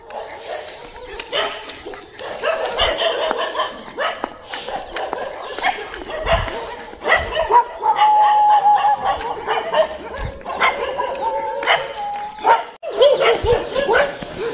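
A dog barks and yips repeatedly at a home, in loud, excited bursts with whimpering between them, while someone talks in between the barks.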